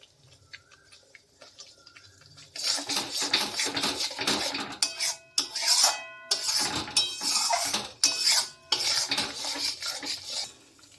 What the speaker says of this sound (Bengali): আমি সব মশলা দিয়ে দিলাম, এবার কষিয়ে নিচ্ছি